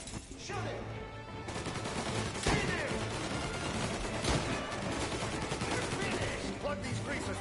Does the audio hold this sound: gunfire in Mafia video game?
yes